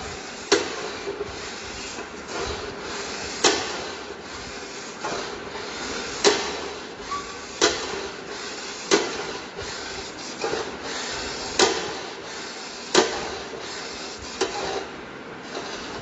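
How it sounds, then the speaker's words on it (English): A foot pump is pressed repeatedly to build pressure on a pressure transducer test rig, giving soft rhythmic thumps with airy hiss about every second and a half over a faint background. "Again I am applying the pressure to 50 by pressing the foot pump."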